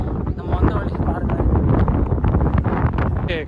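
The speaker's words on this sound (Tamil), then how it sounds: "காற்று வந்து ரொம்ப பலமாக வீசிகிட்டு இருக்கு." Strong wind buffets the microphone on Samanar Hill, a Jain hill near Madurai, as a loud, continuous low rumble with gusty surges that fills the whole stretch.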